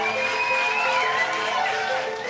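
A crowd claps and cheers as Bernard Tapie arrives, a dense wash of applause with voices and a whistle-like tone rising through it, loud and continuous.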